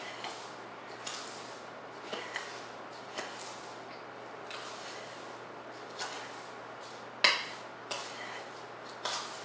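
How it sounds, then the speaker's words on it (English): A spoon stirs powdered homemade dishwasher detergent ingredients in a small container, making soft irregular scrapes and light clinks against a steady faint background. "we're gonna stir this to mix all the ingredients up, so that we don't have layers in our little container here"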